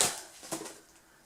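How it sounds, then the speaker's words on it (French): Paper wrapping on a food-box item is handled and torn open in a couple of quick, faint crinkling bursts, close by, fading into quiet afterward. "Alors, désolé pour le bruit de papier."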